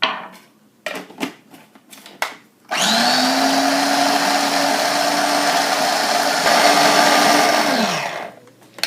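A kitchen blender whirring through basil leaves for pesto: a few knocks and taps first, then a loud steady motor drone for about five seconds, pitch dipping slightly before it winds down and stops.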